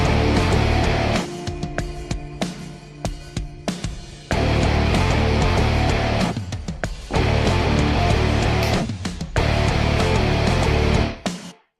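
Heavyocity Damage Rock Grooves guitar groove playing back, dense and loud distorted rock guitar riffing in chunky bursts with brief stops, ending abruptly.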